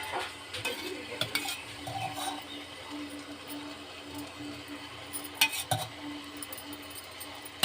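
Upma of bombay rava, just cooked, being stirred in a pan after coriander and a spoon of ghee go in, giving soft scraping and occasional metallic clinks of a spoon against the pan, with no talk.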